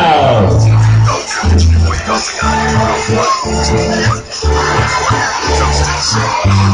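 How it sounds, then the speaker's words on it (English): Baseball stadium crowd singing and cheering together at a Bridgeport Bluefish versus Somerset Patriots game, loud and steady with sustained voices and organ-like tones over a broad roar. "Take me up to the crowd."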